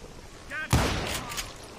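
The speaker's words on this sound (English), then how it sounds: "Let's give the rifle a shot." A single heavy rifle shot in the Western shooter Call of Juarez: Gunslinger, a loud close boom with a rumbling tail, preceded by a brief voice and followed by fainter crackling.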